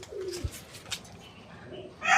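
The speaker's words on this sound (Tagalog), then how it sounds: "Matindi yung mga ibon na yun." Pigeons cooing nearby, with soft low coos and a few sharper bird sounds in quiet surroundings, and no talk.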